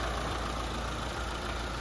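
Mitsubishi Lancer with a 4G15 engine, freshly overhauled after overheating, idling steadily with a smooth, quiet, even hum and a faint hiss, close by and without talk.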